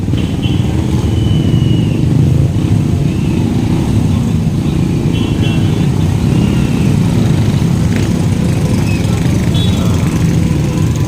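A motorized tricycle drives through a flooded Manila street, its engine a loud, close, steady drone and rumble that continues throughout with no pauses.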